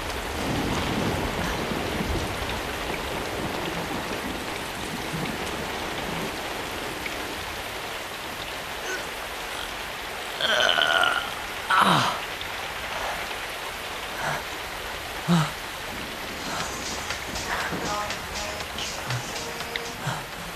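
Steady rain falls throughout, a dense continuous hiss on a surface with possible distant thunder, while a few brief louder knocks and bumps break through around the middle.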